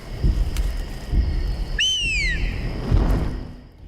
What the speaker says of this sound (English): the scars use whistles